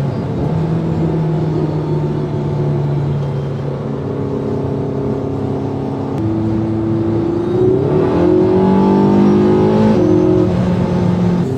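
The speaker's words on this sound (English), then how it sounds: "This car is insanely fast and I can't believe it's 10 years old." A fast 10-year-old car accelerates hard at high speed, its engine droning loudly with rising tones and a gear change midway, continuous inside the cabin with no talk.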